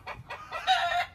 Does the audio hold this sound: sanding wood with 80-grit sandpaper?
no